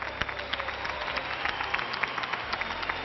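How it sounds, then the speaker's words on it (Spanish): A studio audience or local crowd claps for a team duelist from Ordizia on a televised quiz-style show, giving a dense, even patter of applause that holds steady for a few seconds at moderate volume. "Un fuerte aplauso."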